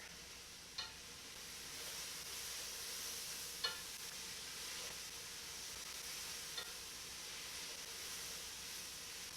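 Lasagna filling of vegetables and reduced-fat ricotta sizzles steadily in a pan under a constant hiss, with a few sharp clicks of a spoon stirring it.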